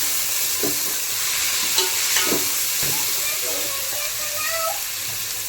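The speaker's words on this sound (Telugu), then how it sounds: "ఇప్పుడు మనం టమోటా, కొత్తిమీర, అల్లం పేస్ట్ వేసుకుందాం. ఇప్పుడు వేసేసాం, కలుపుకుందాం." Tomato, coriander and ginger paste is stirred into cabbage frying in a pan. A steady close sizzle runs throughout, with a few soft scraping strokes of the stirring.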